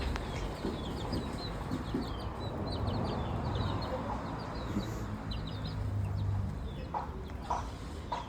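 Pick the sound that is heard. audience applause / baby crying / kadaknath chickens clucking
kadaknath chickens clucking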